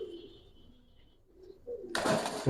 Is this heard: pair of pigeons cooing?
yes